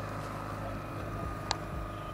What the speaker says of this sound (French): c'est pétole et on navigue au moteur